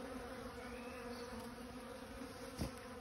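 Honey bee swarm buzzing around a bait hive box, a steady dense hum of many wings close by, with one louder pass near the end.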